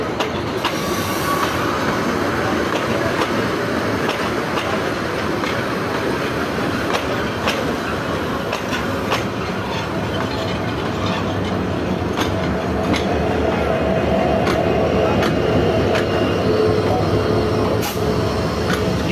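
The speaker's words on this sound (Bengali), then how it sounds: "দ্বিতীয়বারের মতো লোকোমোটিভ 3004 নিয়ে চট্টগ্রাম অভিমুখী চট্টলা এক্সপ্রেস ভৈরব ব্রিজে উঠতে পারলো না, আবার ফেরত আসলো।" Chattala Express, a Chittagong-bound train hauled by locomotive 3004, rolls backward near the Bhairab bridge after failing to climb it. A steady, loud rumble of wagons with faint clicking wheels and occasional squeals continues throughout.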